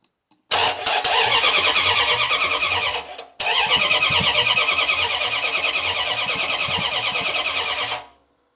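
A car engine that has sat unused for ten years cranks and catches, briefly cuts out, then restarts and runs at a steady, loud idle close by before shutting off.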